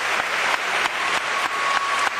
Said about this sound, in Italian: Anzi, farei un applauso